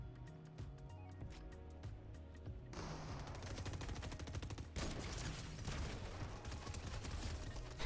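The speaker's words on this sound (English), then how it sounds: "Who's shooting? That shotgun was terrible." Rapid gunfire crackles through a Fortnite match, a dense stream of shots over steady game background music, growing heavier and louder partway through and continuing to the end.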